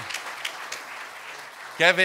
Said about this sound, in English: Please, Kevin, let's give him an applaud, please.